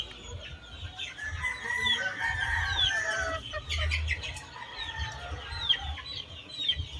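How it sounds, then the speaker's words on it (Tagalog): A large Boston over Golden Boy gamefowl rooster clucks and calls close by, with continuous chicken chatter and other fowl around it in a farmyard, no talking. "Boston sa Golden Boy. Napakalaking manok."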